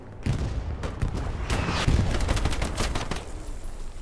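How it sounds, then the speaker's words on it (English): A Browning automatic rifle fires in a multiplayer war video game, with rapid, dense bursts of loud gunfire crackling through a busy battlefield soundscape for several seconds. "Browning automatic rifle doing its deadly work."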